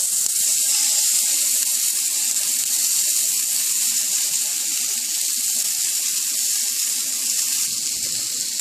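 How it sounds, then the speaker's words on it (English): Paneer tikka cooks on a hot tawa with a steady, loud, hissing sizzle that holds unbroken for several seconds, dense and close with no talk over it. "But just for the demonstration, I wanted to cook 1 on the tawa."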